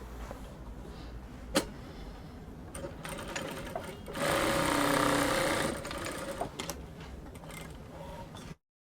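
Sewing machine topstitching the pocket of a one-shoulder shift dress, a close mechanical whirring run of a few seconds with a steadier louder burst in the middle and quiet handling clicks around it.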